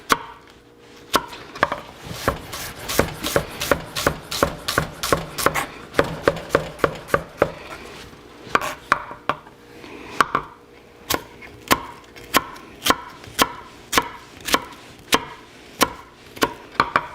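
A knife chops briskly on a cutting board while an onion is being diced for a risotto, with rapid even bursts of sharp taps and short pauses between runs, close and clear with no talk.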